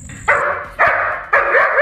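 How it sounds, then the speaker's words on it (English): Guard dog barking at intruders, three loud, sustained barks or bays in an even rhythm, close to the listener, with short gaps between them and no talk. "the dog keeps barking, probably waking up the whole neighborhood"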